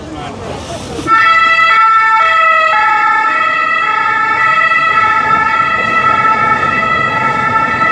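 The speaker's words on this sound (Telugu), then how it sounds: "ఎప్పుడు పోలీస్ సైరన్ లేకపోతే అంబులెన్స్ సైరన్ మోగుతూనే ఉంది" An emergency siren on a rainy Paris street, loud and close, holding a sustained two-tone wail that steps between pitches after a brief burst of traffic noise.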